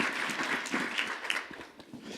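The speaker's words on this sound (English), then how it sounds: "Let's give a round of applause." An audience at a staff gathering claps for Tamara, scattered, uneven applause from a modest group that swells briefly and then thins out toward the end.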